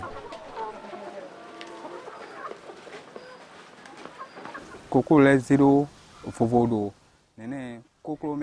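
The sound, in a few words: chickens clucking in pens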